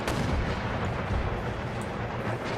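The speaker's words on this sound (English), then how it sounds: "Let's do round shot. Plink at that unit at long range." Cannon round shot fired at long range in Empire: Total War, heard as dense rumbling booms with sharp onsets at the start and near the end, loud and continuous, no talking.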